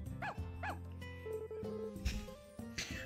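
Stray dogs in the farming video game Story of Seasons: A Wonderful Life give a couple of short yips and barks near the start, over game music and background tones.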